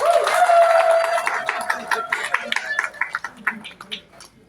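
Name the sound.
audience applause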